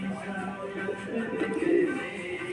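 A pigeon coos softly at close range on a rooftop during hand feeding, a low throaty warbling call that swells toward the end.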